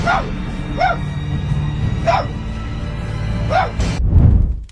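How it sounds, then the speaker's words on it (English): Indoors, a pet dog fixated on a hallway barks, giving four separate barks evenly spaced over a steady background hum, and then a short loud whoosh, with no talk. "started to bark after having its attention locked on the hallway"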